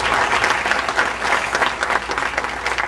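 Loud, dense applause from an audience welcoming a gospel singer onto the stage, a steady wash of many hands clapping that fills the whole stretch without letup.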